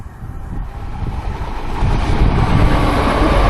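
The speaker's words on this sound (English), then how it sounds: "Let's check this train out." A train rumbles past nearby in Nottingham, a broad roaring noise that grows louder and stays heavy throughout, with no talking.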